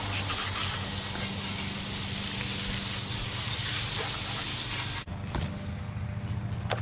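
Water spray rinses a motorcycle, a close, steady hissing rush that cuts off abruptly near the end and is followed by softer splashing and dripping.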